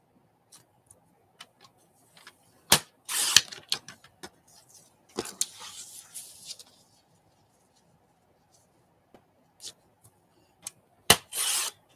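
Scissors snipping through craft material, scattered crisp clicks and short cutting rasps with a few longer scraping bursts between quiet gaps, close and alone.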